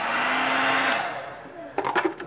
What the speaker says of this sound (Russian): Есть фен, такой немножко маломощный, какой-то странный, он как-то дует.